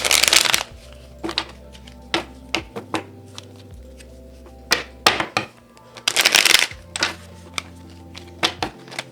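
Tarot cards being shuffled during a pick-a-card reading: close, papery riffles and flicks in irregular bursts, with two longer loud riffling shuffles and soft taps between, no talking.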